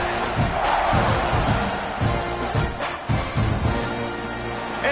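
Crowd noise fills a college football stadium during a Texas A&M versus Oklahoma game as a kickoff nears, a steady, loud roar with swelling bursts throughout.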